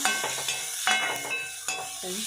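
Onions frying in oil in a pan for Tulu-style chicken pulli munchi, a close, continuous sizzle with a few stirring scrapes and clinks, with no talking.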